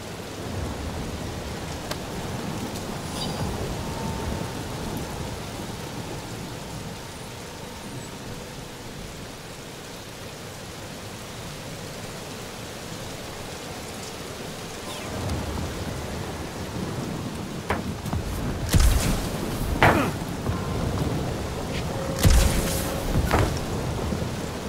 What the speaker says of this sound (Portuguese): Pelo menos a tempestade não tá mais tão ruim.